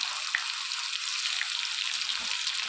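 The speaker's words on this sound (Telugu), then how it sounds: "ఇదంతా కూడా పచ్చివాసన పోయేంత వరకు కూడా ఈ ఆయిల్లో ఫ్రై చేసుకోవాలి" Ginger garlic paste fries in hot oil for a chicken pickle, a dense, even hiss of sizzling that holds steady throughout, close and fairly loud with no voices.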